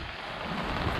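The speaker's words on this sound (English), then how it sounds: "It was raining a little bit this morning and it has not stopped." Steady rain falls over a tented camp during a storm, a dense close hiss of drops on surfaces that stays even through the whole short stretch, with no voices.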